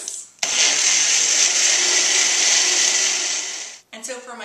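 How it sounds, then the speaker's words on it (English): A small mini blender pulsing fresh raspberries, one loud, steady whirring burst of about three and a half seconds that starts and stops abruptly, heard up close. "put them in my little mini blender here and give them a little pulse"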